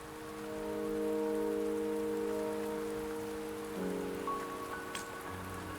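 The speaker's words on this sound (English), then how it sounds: "Don't worry, the rain won't last much longer." Steady rain falls in the video game Wuthering Waves, a soft, even patter that swells early and holds throughout, with faint musical tones drifting over it and no voices.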